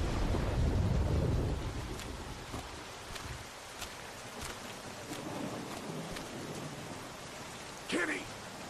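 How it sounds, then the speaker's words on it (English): Rain and a thunderstorm in The Walking Dead video game, steady hiss of rainfall with a heavy low rumble at first, then softer wash with scattered crackles and a brief voice near the end. "Oh, we got some bad storms out there."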